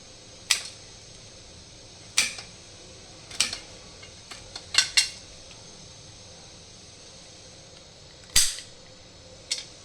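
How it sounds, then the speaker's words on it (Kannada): A knife chops almonds on a board in sharp, isolated clicks, about eight sparse cuts at uneven intervals, close and crisp against a quiet background. "ಫಸ್ಟ್ ಬಾದಾಮಿ ಕಟ್ ಮಾಡ್ಕೊಳ್ತಾ ಇದ್ದೀನಿ"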